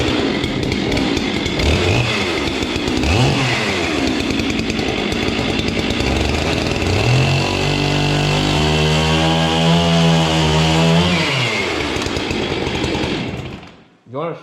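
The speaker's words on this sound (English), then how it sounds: "we're gonna cut it with an oversized 88cc Johnson Red chainsaw" Oversized 88cc Johnson Red chainsaw cutting while rebuilding a farm trailer, loud and close, its engine revving up and down in repeated pitch sweeps with sustained high-rev bursts, then cutting off near the end.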